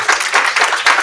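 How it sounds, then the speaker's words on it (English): A conference audience at a science literacy workshop applauds its panelists, a short burst of dense, steady clapping. "Can we give them another round of applause, please?"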